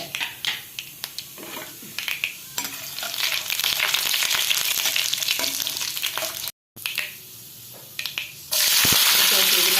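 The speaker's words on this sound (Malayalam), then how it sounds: "അതിലേക്ക് കുറച്ച് കടുക്, ഇതിലേക്ക് കുറച്ച് ഉഴുന്ന് പരിപ്പിടുന്നുണ്ട്" Mustard seeds and urad dal fry in hot coconut oil for Kerala-style masala dosa, with a steady crackling sizzle, scattered popping, stirring clatter and a sudden louder hiss near the end.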